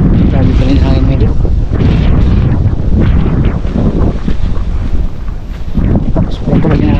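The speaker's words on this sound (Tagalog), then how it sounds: "Sobrang tulag na hangin." Very strong wind roars and thumps against the microphone in heavy, uneven gusts, with speech partly buried beneath it.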